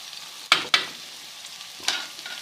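Onions frying in hot ghee in a pan, with two sharp scraping stirs in quick succession, then a softer third stir over a low steady sizzle.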